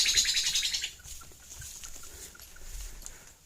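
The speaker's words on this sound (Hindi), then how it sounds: "पक्षियों की जो आवाज़ है, डराने वाली आवाज़ कानों में सुनाई पड़ रही है" Birds calling around the ruined walls of Shergarh Fort in Bihar as rain begins, a dense burst of high chirping in the first second, then scattered fainter calls over the patter of rain.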